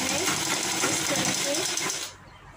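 A sewing machine stitches along the folded inner edge of a kurti collar, running in a fast, continuous mechanical rattle close by before stopping abruptly near the end.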